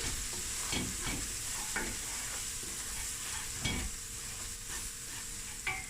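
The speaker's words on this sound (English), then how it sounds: "now we're just going to let the spices cook through" Spices sizzle in a pan for a creamy mussel curry, a steady close hiss broken by repeated scraping stirs, with no voices.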